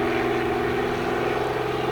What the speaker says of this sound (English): That's pretty slow for an airplane, isn't it?